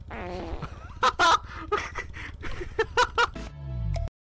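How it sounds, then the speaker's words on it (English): Several short, loud flatulent bursts in irregular succession, some buzzing and tonal, ending in a low drawn-out rumble that swells at the close. "I need to fart."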